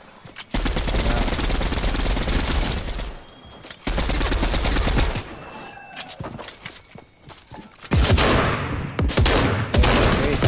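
Rapid automatic gunfire from a video game, with several long sustained bursts of shooting separated by brief pauses, loud and close, and a heavier burst near the end.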